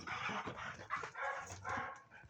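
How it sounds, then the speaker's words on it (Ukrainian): Dog barking indoors amid a busy group of several dogs, short yips and barks recurring through the moment, moderately loud with no talk over them. "О, так, гавкає."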